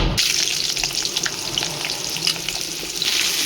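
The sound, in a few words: crab, potatoes and onions frying in hot oil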